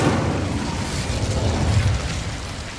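An Incendio fire spell bursts in Hogwarts Legacy, a continuous roaring, whooshing blaze that stays loud and dense throughout before easing slightly at the end.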